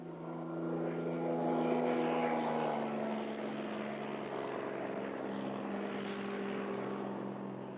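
A float plane's propeller drones steadily near Brooks Camp in Katmai, Alaska, a moderate humming engine tone that swells slightly then holds, with no talking.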